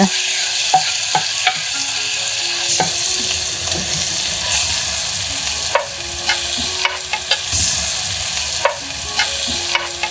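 Garlic, ginger and cinnamon bark crackling in hot oil as a tempering for sandwich roll filling, a loud dense sizzle throughout, broken by frequent spoon clinks and scrapes against the pan, with no speech.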